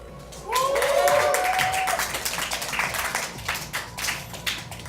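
Crowd applause and cheering at a StarCraft 2 esports match as a Zerg player is introduced, a sustained burst of clapping under a loud announcer's voice.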